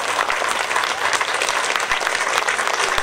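Steady, dense audience applause at a Polish Armed Forces Day celebration, many hands clapping continuously and loudly at close range with no voices over it.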